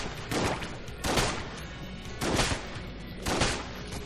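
Gunfire in Enter the Gungeon aimed at a blob enemy comes in four separate bursts of crackling shots, each about half a second long, spaced by short quieter gaps.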